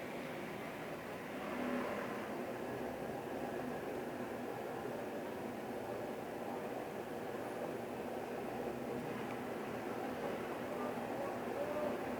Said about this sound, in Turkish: buradan mouse'umuzun tuşuyla ben gazımı veriyorum